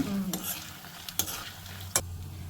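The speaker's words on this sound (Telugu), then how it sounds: "కొంచెం జీలకర్ర వేసి ఈ మూడు బాగా కలిపి వేయించుకుంటే" Cumin with Malabar spinach chutney ingredients stir-frying together in a pan, a low steady sizzle broken by three sharp clinks of a spoon against metal, close and alone.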